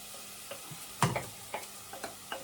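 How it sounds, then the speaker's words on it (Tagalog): Rice and garlic sauté in a pan for lugaw porridge: a soft sizzle runs under sparse, close spatula scrapes and stirring knocks, one louder than the rest, with no talk. "Igisa po natin."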